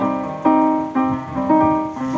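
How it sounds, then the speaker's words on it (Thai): Pastel Siamkey1 electronic keyboard piano notes struck one after another, four clear tones in a steady rhythm, each decaying before the next, close and moderately loud. "อันนี้เสียงเปียโนนะครับ เสียงเปียโน"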